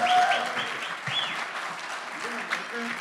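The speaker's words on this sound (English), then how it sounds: "Would you give my good friend, Gordy Doblar, a big, I'm talking about a big, Root River round of applause." A church congregation gives a round of applause, a broad wash of clapping that fades slightly as a voice speaks over it, with a sung or spoken tone near the start.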